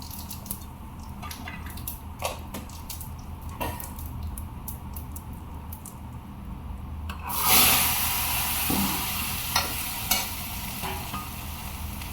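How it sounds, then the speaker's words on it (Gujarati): Cumin seeds go into hot oil in a pan and are stirred, giving a steady close rubbing scrape with light clicks, then a brighter hissing sizzle that swells partway through and carries on to the end. "તો ચાલો હલાઈ નાખી દઈએ જીરું નાખી દઉં"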